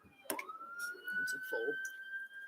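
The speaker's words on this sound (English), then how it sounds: "a full fire truck and an ambulance" A siren from a fire truck or ambulance rises and then holds a steady wail, heard fairly faintly at a distance under scattered indoor noises and brief murmurs.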